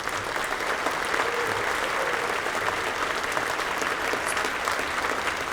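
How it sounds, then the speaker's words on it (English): A room full of people applauds the Lake County Partners Board of Governors as they stand at an event, a sustained, even roar of clapping with no breaks. "how about a round of applause for our Lake County Partners Board of Governors"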